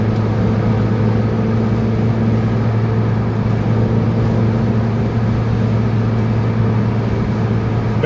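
A Peugeot 206 car being driven gives a steady, loud engine drone with a low hum and a constant road rush that holds evenly throughout, with no voices.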